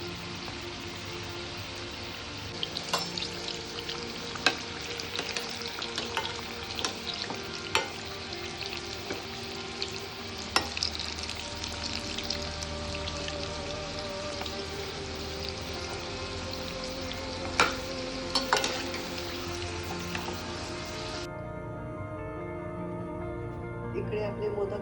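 Pumpkin modak roast in a pan, with a steady light sizzle and scattered sharp ticks and clinks from handling over about twenty-five seconds. The sound dulls toward the end, and no one speaks.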